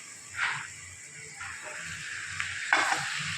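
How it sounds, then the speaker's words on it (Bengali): Yogurt is added to spiced vegetables cooking in a pan, giving soft bursts of sizzling and hissing over a low, quiet background of frying. "আমি এখন এখানে 2 চামচ পরিমাণ দই দিয়ে দেবো"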